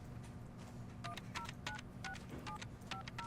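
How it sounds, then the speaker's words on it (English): Telephone keypad tones beep in quick irregular clusters, a handful of dual-tone presses spaced across a few seconds, fairly faint over a low room hum. "Get on the phone with Bob right now"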